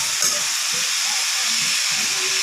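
Salt and turmeric fry lightly in a pan with a steady, bright sizzling hiss, close and continuous, with a faint low murmur underneath.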